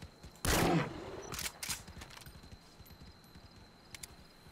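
Gunfire at a bear in the Metal Gear Solid V: The Phantom Pain video game, with one loud burst followed by a couple of quieter shot-like thuds and a faint late pop over a low game background.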